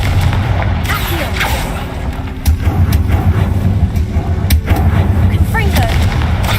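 Confringo blasting spell explosions in the game Hogwarts Legacy, loud booming blasts and sharp cracks over a rumbling game backdrop, several hits spread across the span, with faint effects between.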